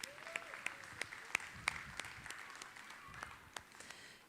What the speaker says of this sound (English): Let's give these two a big round of applause.